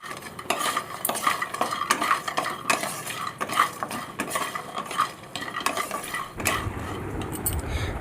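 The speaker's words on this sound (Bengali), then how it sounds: "বড়ি ভাজার সময় আমি ভালো করে এদিক ওদিক করে একটু নাড়াচাড়া করে দিচ্ছি" A spoon scrapes and clinks repeatedly against a pan close by, over a steady sizzle of lentil dumplings (bori) frying in a kadai; the clatter eases near the end, leaving mostly sizzling.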